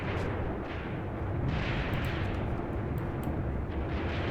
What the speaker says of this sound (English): Artillery is back on target.